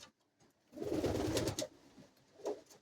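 Pigeons in a loft, a close burst of soft throaty cooing lasting about a second, then a quieter short coo, with faint rustling before.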